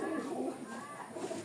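Red Sundori pigeons coo steadily nearby in soft, throaty, overlapping calls, with a faint hum in the background.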